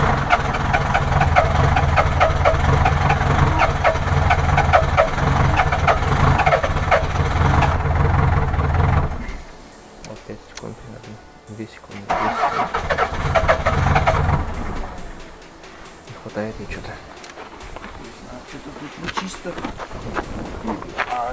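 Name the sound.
Toyota 4S-FE engine cranking and almost starting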